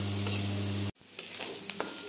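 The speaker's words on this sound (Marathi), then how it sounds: "आपण कांदा चांगला गुलाबी रंगावर परतून येस्तोवर भाजणार आहे" Chopped onion sizzles and fries in a pan, a steady loud hiss with a hum that cuts off abruptly partway through, then continues as a softer sizzle with light stirring scrapes.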